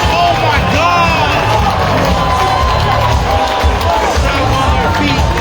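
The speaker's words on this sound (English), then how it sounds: "Standing ovation in the crowd." A live Muay Thai event crowd roars and cheers in a standing ovation after a fight, with loud, continuous shouting and whooping filling the space while excited commentators talk over it.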